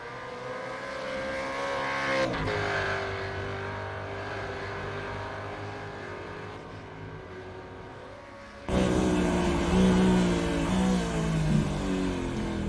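Ford Mustang Supercar in iRacing on an onboard lap at Oran Park Raceway GP, its engine droning steadily loud with shifting pitch through gear changes, rising sharply louder in the final seconds.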